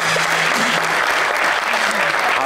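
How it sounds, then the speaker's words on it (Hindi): Studio audience on a Pakistani talk show breaking into loud, dense applause for a guest, steady clapping throughout with a faint voice underneath. "अंकल के लिए तालियां"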